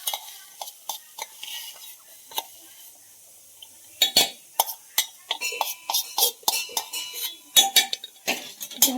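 A spoon stirs red chili powder into onion tomato chutney in a metal pan, a string of sharp clinks and scrapes in irregular bursts, close and clear, with quiet pauses between.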